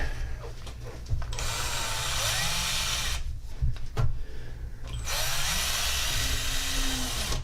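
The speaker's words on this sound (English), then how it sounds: "And the drill is here." An electric drill whirs loudly in two long runs separated by a brief pause with a few knocks, close up and continuous.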